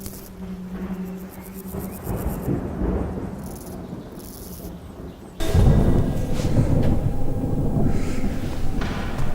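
Thunder rolls and rumbles over a stormy backdrop, a long low growl that swells into a louder, closer crash around midway and keeps booming with steady storm noise and rain-like hiss.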